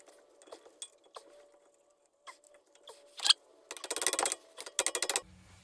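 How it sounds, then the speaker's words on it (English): A metal retaining pin is hammered into a brake caliper on a 2016 Tesla Model X 90D during a brake and rotor job, with scattered light metallic clinks followed by two quick bursts of close, rapid taps. "pound it in. You see that pin come through."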